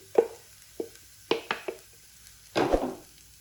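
Potatoes going into a pan of softened frying onions: a few separate soft knocks close by, then a brief rustling tumble as the pieces land, with no talk.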